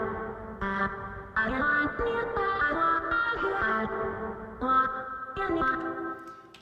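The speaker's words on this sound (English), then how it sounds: "there's a whole bunch of reverb and stuff on that" In a remix, a pitch-corrected vocal sample steps through sustained synthetic-sounding notes, drenched in heavy reverb and echo with a smeared, washy tail, loud and continuous for several seconds.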